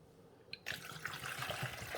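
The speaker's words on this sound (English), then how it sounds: "I'm dumping the pure white vinegar right here" Pure white vinegar poured into the water reservoir of a Black + Decker 12-cup coffee maker, model CM2030B. After a brief clink it becomes a steady, close splashing pour that runs on with no talk.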